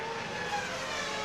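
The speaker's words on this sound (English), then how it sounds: "You can hear them popping and splashing away on the traction control." Formula One cars at the 2001 Spanish Grand Prix popping on traction control, a steady high engine whine from a distance, unbroken over the short stretch, with no one speaking.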